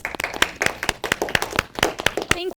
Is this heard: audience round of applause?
yes